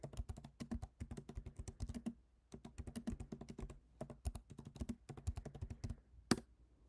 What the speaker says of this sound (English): First, we are going to type in final scores of football games.